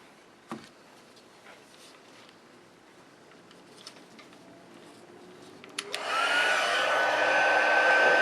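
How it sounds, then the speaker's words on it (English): A crafting heat tool switches on near the end, blowing hot air onto a card in a steady close whir with a faint whine, after quiet handling clicks and taps. "Now let me go bring the heat tool in."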